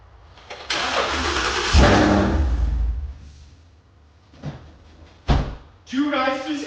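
A 2017 Ford Mustang GT undergoing a rebuild cranks and fires up, its engine roaring loudly and steadily close by, then dropping off, followed by a thump like a door and a voice speaking at the end.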